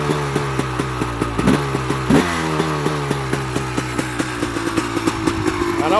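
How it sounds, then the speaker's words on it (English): A cold 1995 Honda CR250 dirt bike or 2003 Honda CRF450R idles with a steady close-up engine note, broken by a couple of quick blips of the throttle. "I don't want to rev it up too much because it's still kind of cold"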